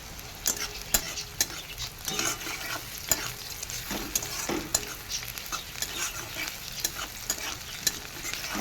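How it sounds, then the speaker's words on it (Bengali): Crushed garlic and red chili fry in hot oil while a spoon scrapes and stirs the pan in regular strokes, the clinks and scrapes standing out over a continuous close sizzle. "তো দেখো আমি এটা থেতলে রাখা রসুনটা দিয়ে দিলাম। এবার আমি রেড চিলি মানে লাল লঙ্কা দিয়ে দিলাম।"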